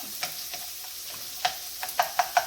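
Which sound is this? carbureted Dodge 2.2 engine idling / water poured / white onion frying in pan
white onion frying in pan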